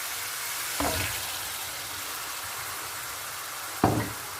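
Tomatoes fry with onions in a pan for a chicken and capsicum (shimla mirch) curry, giving a steady close sizzling hiss broken by two brief knocks, with no talking.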